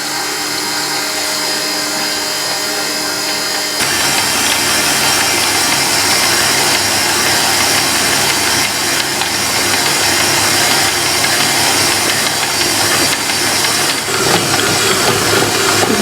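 A stand mixer fitted with a dough hook kneads baguette dough at slow speed, giving a loud, steady mechanical whir and churning drone that holds on continuously without speech.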